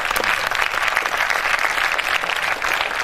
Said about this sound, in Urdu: اس ایوان میں جتنی بھی تالیاں بجی،